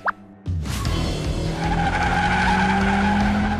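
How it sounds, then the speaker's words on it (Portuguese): In a cartoon, car tires squeal in a long skid over a loud roaring engine, following a brief plop-like sound at the start. "Ouça o barulho dos pneus e o som do motor."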